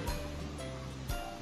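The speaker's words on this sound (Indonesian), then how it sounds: "Air terjun." Waterfall in Sumatra: a steady, broadband rushing roar of falling water that holds for the whole moment, with a faint low hum underneath and no voices.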